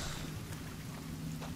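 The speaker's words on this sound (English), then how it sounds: "Thunder 2. And it's raining." Steady rain hisses throughout a stormy scene in the survival game The Forest, with a low continuous rumble of thunder underneath and a couple of faint brighter crackles, all at moderate level and without voices.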